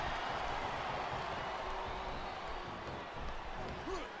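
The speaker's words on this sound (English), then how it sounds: "Listen to the crowd, JR" A video game arena crowd in WWE Smackdown vs RAW 2007 roars steadily and densely throughout, a constant wash of cheering that sits behind faint commentary voices.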